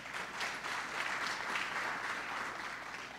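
Steady applause from a church congregation during an Afrikaans confession service, a dense continuous clatter of many hands that holds even for the whole stretch without voices.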